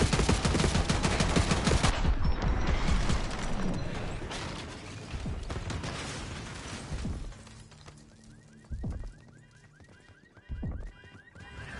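Gunfire in the Call of Duty Black Ops 6 campaign: loud, dense bursts of automatic fire and shots crowd the opening seconds, then thin out into scattered single reports and mechanical clatter as the fighting eases.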